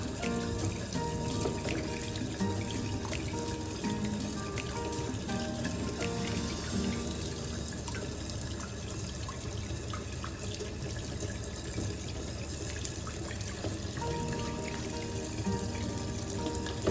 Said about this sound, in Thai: ล้างไข่ให้สะอาดเลยนะครับ